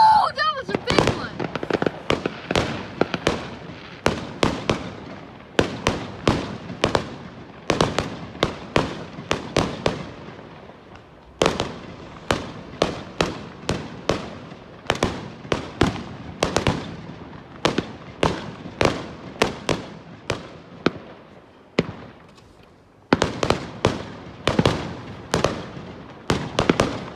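Fireworks burst again and again over a night sky in central Ireland on Bonfire Night at Halloween, sharp cracks in rapid clusters with short gaps, loud and fairly near.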